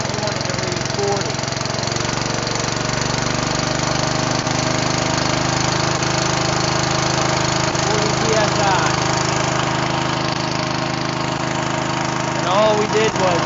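The engine of a deicing sprayer runs at a steady, close, loud drone with a constant hum and a few faint clanks, while a person talks over it.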